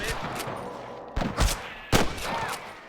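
Gunfire in the Western video game Red Dead Redemption, a few sharp close shots in quick bursts over busy game background noise.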